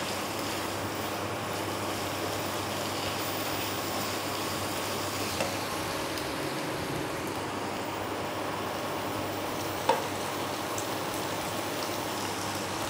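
Chicken frying in a pan with chicken masala, a constant low sizzle with soft stirring scrapes and one sharp clink near the end, no voices.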